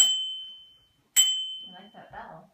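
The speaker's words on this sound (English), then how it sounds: "I like that bell." A bicycle bell rings twice with bright metallic dings, each leaving a long ringing decay, on Christmas morning indoors; a voice follows the second ring.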